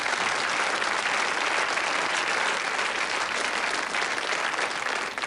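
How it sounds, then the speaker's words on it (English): Studio audience applause on a classic television game show, a loud sustained wash of clapping from the crowd that carries evenly throughout before tailing slightly at the end. "But a round of applause anyway."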